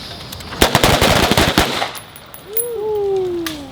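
A rapid burst of gunfire during shooting instructor training on a range, about a dozen closely spaced loud shots fired in quick succession, followed by quieter ringing and a faint rising whine.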